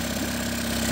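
A Mariner 9.9 four-stroke outboard motor idling with a steady low hum and a constant mechanical drone, close and fairly loud, with no talking.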